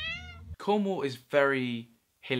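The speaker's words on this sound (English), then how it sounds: "Can't remember its name, but it meowed a lot." A cat meows in a home where a dog is also kept, a harmonic cry at the start followed by a person talking at close range over it.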